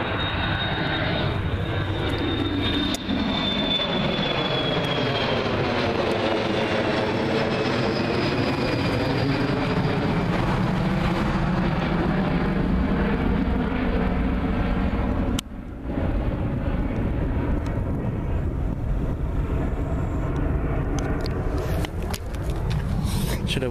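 A British Airways airplane passing at Gatwick Airport, a steady, loud jet roar with a falling whine, sustained throughout as it goes by, with a brief knock midway and a voice faintly underneath.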